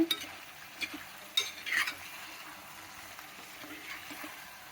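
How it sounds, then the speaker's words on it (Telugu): Chicken frying in a pan on the stove and being stirred, with soft sizzling underneath and a few quick scrapes and clinks of the spoon. The sound is fairly quiet and close. "ఇది 5 నిమిషాలు వేగించాను అన్నమాట."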